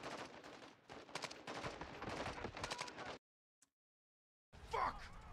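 Gunfire in the video game Call of Duty: Modern Warfare 2 campaign, dense and loud for about three seconds, then cut to near silence, then returning with busy battle noise.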